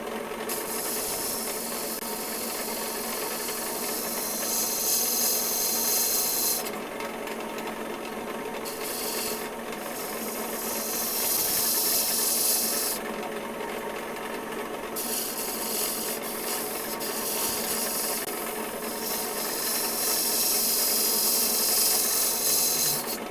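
A woodturning lathe scraper shears wood into ribbon shavings, a steady close-up rasping hiss that swells and drops back in long passes, with brief quieter gaps between cuts.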